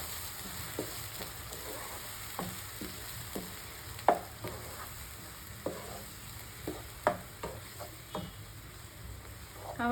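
Ground masala paste for egg curry sizzles steadily in a pan over tomato cooked down to a paste, while a spoon scrapes and stirs in irregular, clattering strokes close by.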